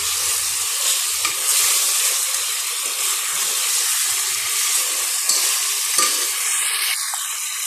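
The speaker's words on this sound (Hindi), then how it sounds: "इसी स्टेज पर हम इसके अंदर शामिल करेंगे सफ़ेद ज़ीरा, तकरीबन आधा चाय का चम्मच, और अगेन इसे 2 से 4 मिनट तक फ्राई करेंगे" About half a teaspoon of white cumin seeds fries steadily in hot oil for a curry of potato and mutton, giving a continuous close hiss and sizzle with faint crackles, and no one speaks.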